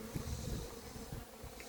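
A dense, steady buzz of many honeybees robbing wax from a queenless hive late in the season, heard up close and continuous with no talking.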